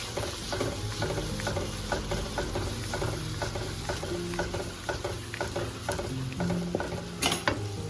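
Minced meat with tomatoes fries and gets stirred in a pan, a continuous sizzle broken by repeated scraping and clicking strokes of a spoon against the cookware, close and steady, with a sharper clatter near the end.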